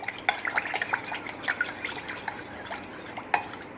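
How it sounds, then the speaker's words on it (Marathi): Egg beaten with milk and water in a mixing bowl for fried chicken batter, heard as quick, uneven clinks and scrapes of a utensil against the bowl with faint liquid sloshing, close and fairly quiet. "आता व्यवस्थित मिक्स करून घेऊ"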